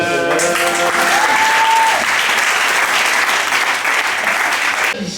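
A church congregation applauding in praise of the Lord, steady dense clapping filling the whole stretch, loud and close, with a faint voice and tone partly under it.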